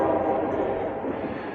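A train rolls past near a rail crossing, a steady broad rumble of wheels and cars that stays loud and close throughout, with no voices over it.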